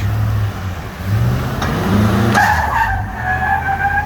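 A Chevy Suburban converted to front-wheel drive, its rear already blown, does a burnout. Its engine roars loud and close and the spinning tires screech in a sustained, rising squeal that continues to the end.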